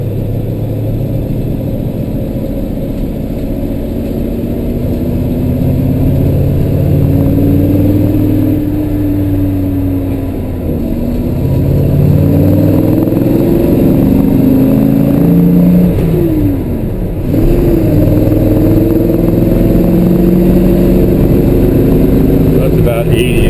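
A 1969 Chevelle SS 396 with a cold engine drives along, its V8 rumbling steadily from inside the car with uneven surges and dips in revs as it hesitates, continuous and moderately loud.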